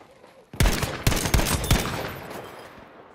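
Loud bursts of automatic gunfire in the World War II shooter Battlefield V, several heavy shots in quick succession after a quiet opening, then trailing off into echoing battlefield noise.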